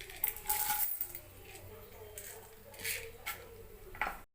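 Chana dal tipped into hot oil for tempering, alongside cumin, mustard seeds and dried red chillies, makes a scatter of small patters and clinks followed by a soft sizzle, close by.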